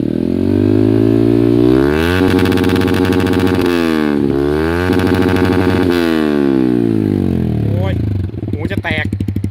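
A Yamaha R15 fitted with an Akrapovic Shorty exhaust revs hard and close, its pitch climbing and falling in repeated sweeps between high and lower revs before dropping to a choppy, burbling idle.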